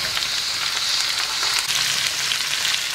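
Freshly cut pepper slices fry in a pan with a steady, loud, dense sizzle that runs unbroken throughout, with no voices.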